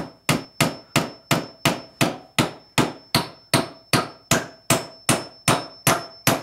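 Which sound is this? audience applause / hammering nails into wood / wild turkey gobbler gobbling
hammering nails into wood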